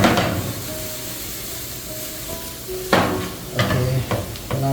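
Sliced onions with salt cook in a hot pan, a constant sizzle and hiss with a few louder bursts of stirring and scraping partway through.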